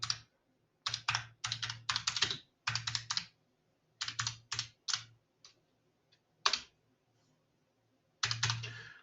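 Bursts of computer keyboard typing while entering text in an Excel spreadsheet, quick clusters of crisp key clicks separated by short pauses, close and fairly quiet.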